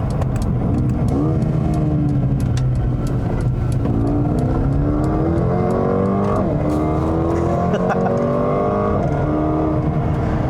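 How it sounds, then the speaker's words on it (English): Steady road and tyre roar inside a 2020 Mercedes-AMG CLA 35 hatchback with a 302 hp engine, constant and fairly loud throughout, with the engine note rising and falling as it accelerates and shifts underneath. "there is just a fair amount of road noise in this car"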